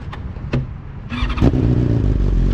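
A BMW S1000RR sport motorcycle revs up for a power wheelie. After a few sharp clicks, the engine swells into a loud, steady, close-up roar that holds to the end.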